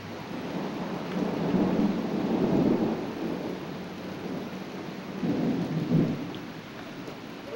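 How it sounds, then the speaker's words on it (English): Deep rolling thunder from lightning in a 1995 Utah storm, rumbling in two swelling waves over steady rain, with no voices. "As it strikes, it makes kind of a sound, which sounds quite lightning-ish."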